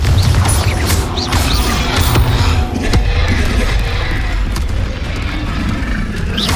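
Confringo blasting spell explosions in a Harry Potter video game, dense loud crashing booms layered over continuous battle noise and game music with no pause.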